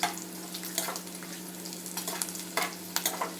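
Green chillies and curry leaves fry in hot oil for a chicken dish, giving a steady low sizzle with scattered crackling pops and stirring scrapes, close and without talk.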